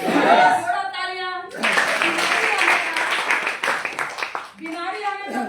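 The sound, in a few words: audience clapping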